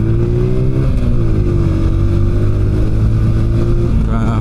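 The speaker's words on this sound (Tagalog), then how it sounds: "It's a traffic." Heavy road traffic on a busy street, a loud continuous low engine rumble with idling and revving vehicles close by, a steady drone throughout with a rising rev at the end.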